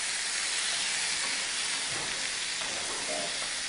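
An ingredient roasting in a hot pan gives a steady broadband sizzling hiss, even and continuous, faint and alone with no talking.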